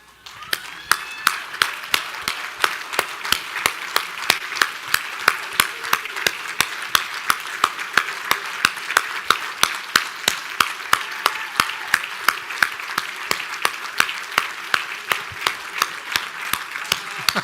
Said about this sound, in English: I'd love to have all Challenge Coin recipients, including tonight's, please stand for a round of applause.